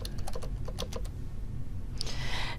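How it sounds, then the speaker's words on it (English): Quick keystrokes on a computer keyboard, about eight light taps in a rapid run, then a brief brighter click, close by over a low room hum. "I'm going to type birthday"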